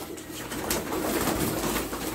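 Homing pigeons, bluish-grey birds in a loft, coo softly alongside fluttering and rustling, a steady close-up mix of bird sounds with no talking.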